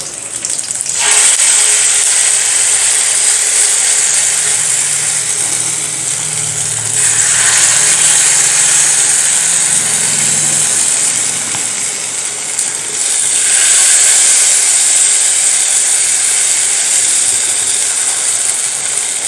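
Batter for a savory tiffin snack sizzles in a hot pan, a steady loud hiss with gentle swells, no talk over it.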